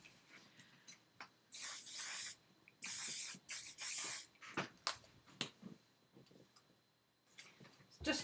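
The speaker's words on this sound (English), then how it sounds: "So I might as well spray it now while I've got the window open." Workable fixative is sprayed onto a watercolour painting in short aerosol bursts, several loud hissing sprays separated by quiet handling clicks and taps nearby.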